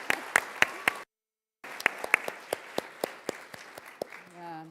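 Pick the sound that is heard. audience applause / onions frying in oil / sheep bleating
audience applause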